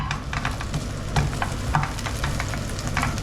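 Steak and potato cooking together in a frying pan, a steady close sizzle with scattered crackles and small clinks of a utensil running through it, no talking.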